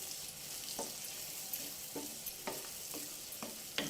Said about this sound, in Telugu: కొంచెం ఉల్లిపాయ వేగాలండి. ఉల్లిపాయ, వెల్లుల్లిపాయ, కరివేపాకు,